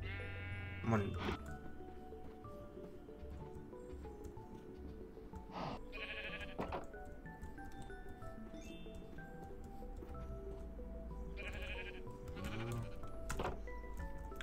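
Sheep in a Minecraft hardcore game bleat several times in short, nasal calls spread across the scene, mixed with game sounds while a player talks over them.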